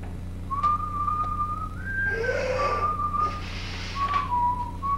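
A person whistles sustained, wavering tones toward a pet bird, long steady notes with slides and a brief flurry in the middle, close and clear over a low room hum.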